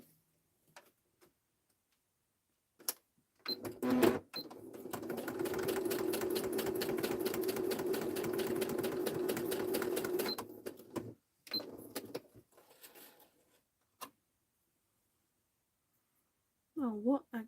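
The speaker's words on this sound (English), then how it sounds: "Let me stitch this." A sewing machine stitches through a paper craft suitcase in one steady mechanical run of about six seconds, with short starts and stops on either side.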